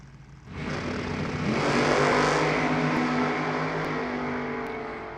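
Supercharged drag racing cars at an NHRA divisional event launch with a thunderous roar that builds quickly after a quiet start and holds as a loud, sustained engine blast to the finish, with no talk.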